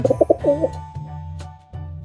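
A bird calls at its nest with a quick burst of bright chirping, cooing notes at the start, then falls quiet over a low, steady background hum.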